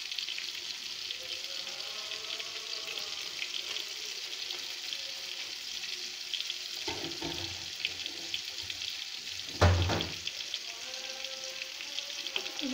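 Cauliflower fries in a pan with a steady, close hiss of sizzling oil, and a brief stirring clatter comes near the end.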